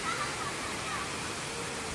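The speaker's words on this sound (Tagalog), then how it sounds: "Ang ganda pala ng falls na dito." Hinulugang Taktak waterfall in Antipolo pours in a steady, dense roar of falling water, close and continuous with no talk.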